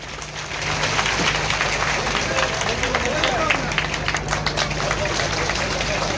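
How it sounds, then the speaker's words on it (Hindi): Crowd applause at a BJP political rally in Daltonganj, welcoming speakers to the stage, a steady mass of clapping mixed with crowd babble and a low hum underneath, sustained throughout. "सभी तालियों से स्वागत करेंगे"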